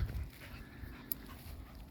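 A soaking wet dog pants softly on a narrow outdoor path, quick faint breaths with a small whimpering note under light wind rumble.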